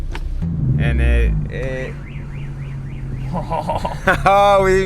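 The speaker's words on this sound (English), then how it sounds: "oh, we even set car alarms off." A car alarm wails in a warbling, up-and-down pattern amid engine rumble and other noise, with people talking nearby.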